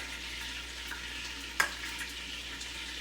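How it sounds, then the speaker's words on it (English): Beer sauce for garlic chicken simmers in a pan with a steady, soft sizzling hiss throughout and one sharp clack near the middle. "We're gonna let this cook and simmer."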